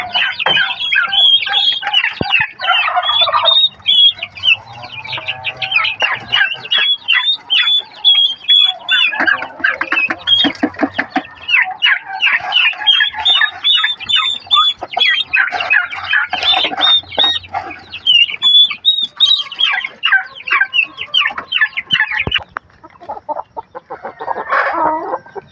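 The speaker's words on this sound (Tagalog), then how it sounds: "Ito yung pabo na sisiw mga kapi" Continuous high-pitched peeping from a cluster of turkey chicks, chattering busily and close by, with occasional brief pauses.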